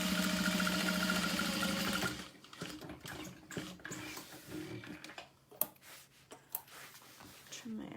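A sewing machine runs steadily through a vinyl seam for about two seconds, a close and fairly loud whirring, then stops. Quiet handling noises with a few sharp clicks follow.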